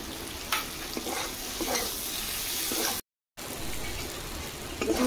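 Potatoes and spices fry in a pan with a continuous close sizzle and occasional stirring scrapes, broken by a brief cut to silence midway.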